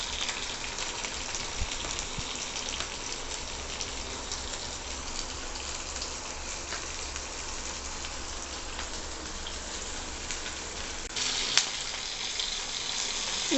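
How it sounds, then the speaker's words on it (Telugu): Sliced onions and green chillies frying in hot oil, a steady soft sizzle and crackle running continuously without talk. "ఈ ఉల్లిపాయలు బాగా ఫ్రై అవ్వాలి, బ్రౌన్ కలర్లో రావాలి"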